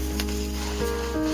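One kilogram of bone-in chicken fries in a pot with onion and ginger-garlic paste for chicken nihari, giving a steady, close sizzle with a low hum underneath and no speech.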